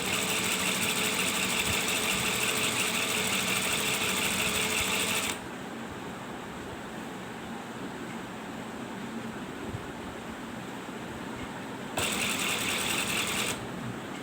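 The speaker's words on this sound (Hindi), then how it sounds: "अब पहली सिलाई लगानी है।" A sewing machine stitches the first seam of a ladies' belt shalwar, running loud and steady for about five seconds, pausing to a quieter hum, then starting again in a short burst near the end.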